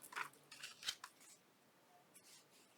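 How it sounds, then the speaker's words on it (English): Scissors snip a small piece off a doll's fabric dress, a few quick, crisp cuts close up and faint, then quieter rustling. "I'm going to trim this little piece off of her dress right here"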